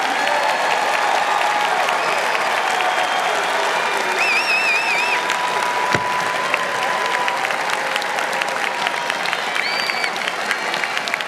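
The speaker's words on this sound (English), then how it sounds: "let's give one last round of applause to the graduates and their families," Dense, sustained applause from a large commencement crowd at a spring university graduation ceremony in Ohio, a steady broadband roar of clapping with scattered cheers and whistles throughout.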